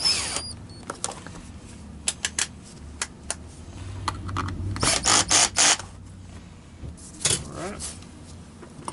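Part of a Wessel-Werk EBK 340 Silver King central vacuum nozzle being tightened up with a wedge during repair, heard as close clicks, ratcheting rasps and a short burst of mechanical clatter, with someone talking at times.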